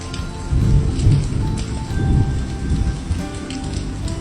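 Heavy rain pours steadily onto surfaces, dense and close, with low rumbles of thunder rolling underneath and no voices.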